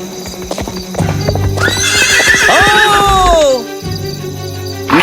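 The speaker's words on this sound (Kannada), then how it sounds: "ನೀನು ಓಣಿಯ ನಡುವೆ ಕುದುರೆಯನ್ನು ಸವಾರಿ ಮಾಡುವುದು ತರವಲ್ಲ" A horse in a rainy-lane scene of a Kannada story trots with clear clip-clop hoofbeats, then lets out a loud, long neigh close by; the hooves resume after the whinny.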